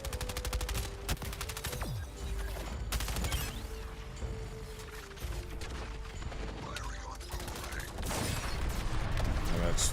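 Rapid automatic gunfire in the game Suicide Squad hitting enemy shields, dense continuous bursts with mechanical clanks and impact crashes, steady and fairly loud, with someone talking over it.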